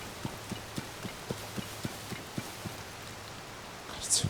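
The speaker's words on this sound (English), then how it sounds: "The sound design when it rains is just unbelievably good." Horse hooves clop in a steady, evenly spaced rhythm through rain falling in Tears of the Kingdom, with a constant soft hiss of rainfall underneath and a brief bright splash at the end.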